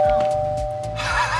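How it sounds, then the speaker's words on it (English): A house doorbell rings with a quick ding-dong chime, heard once up close indoors, fading into room noise and faint shuffling afterward. "Doorbell."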